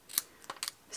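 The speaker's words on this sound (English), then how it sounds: "And then just with a pair of scissors," A few quick, crisp snips of scissors cutting the end off a paper treat bag, close and isolated in a quiet room.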